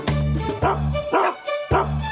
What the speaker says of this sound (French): Ils aboient toute la journée dans la drôle de ferme de Papy Henri.